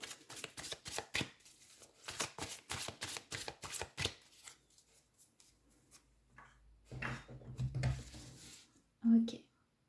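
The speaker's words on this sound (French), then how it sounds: "il faut que je tire des cartes là, c'est ce qu'on me dit." Oracle cards being shuffled close up, with a quick run of crisp riffling flicks and slaps, then softer handling and rustling toward the end.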